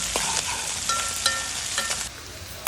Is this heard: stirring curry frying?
yes